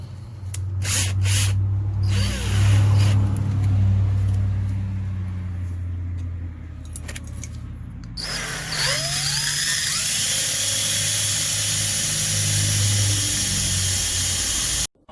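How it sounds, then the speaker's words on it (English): A high-pitched drill whines steadily for a long stretch, drilling out a broken pin from a 2008 Chevy Impala's rear brakes with a small bit, its pitch shifting partway through as it bites into metal. "we're going to drill it with the small bit first"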